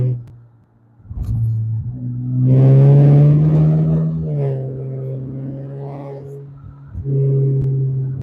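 Car engine revving loudly and close by, a deep, rough idle that climbs into a long sustained rev, drops back, then surges again, with no talking.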